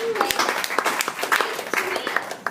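Scattered claps and laughter rise from a small comedy theater audience, short uneven bursts of applause mixed with crowd noise and voices.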